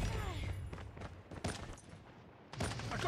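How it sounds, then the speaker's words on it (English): Bursts of gunfire in a competitive shooter match, rapid cracking volleys and thumps in several clusters, moderately loud with brief quieter gaps between them. "I got shot."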